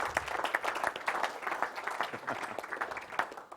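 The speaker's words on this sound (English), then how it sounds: "Let's give the Lord a big clap offering or something." Church congregation gives a sustained round of applause, many hands clapping steadily at moderate distance for a few seconds with no voices on top.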